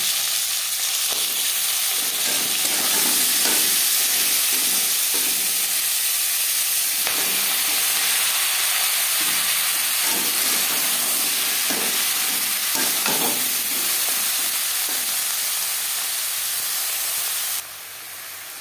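Cut flat beans frying in oil with fried garlic, a loud, dense, continuous sizzle and hiss with occasional soft stirring scrapes, close up and without talk, dropping slightly at the very end.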